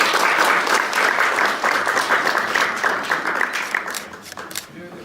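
An audience at an educational session claps after a lecture, dense applause that holds steady, then thins out and fades toward the end.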